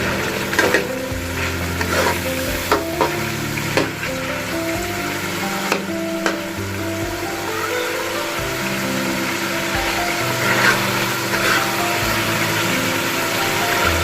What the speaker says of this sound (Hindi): चिकन को बड़े अच्छे तरीके से फ्राई करेंगे